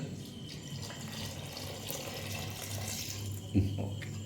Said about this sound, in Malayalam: തേങ്ങാപ്പാൽ ഒഴിക്കുന്നുണ്ട്